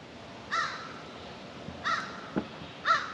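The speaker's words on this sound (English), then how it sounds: "Shut up, crow!" A crow caws three times outdoors, with harsh, clear calls spaced about a second apart over a low background hiss.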